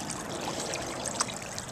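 Water gushes in a steady, full rush into a small fish pond, a continuous close splashing roar with no voices over it.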